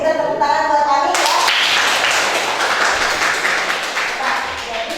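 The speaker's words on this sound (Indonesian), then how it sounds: "kita tepuk tangan buat Ani ya" A classroom of students bursts into sustained applause for a classmate, many hands clapping loudly and densely together for several seconds, with a voice speaking over the start.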